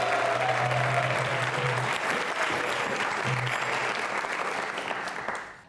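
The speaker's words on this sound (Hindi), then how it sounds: "तालियां जोरों से बजाइए उनके" A large audience bursts into loud, sustained applause at a Hindu quiz show on Sanatan Dharma held by the Hare Krishna Mission. The dense clapping fills the room steadily and then begins to trail off at the end.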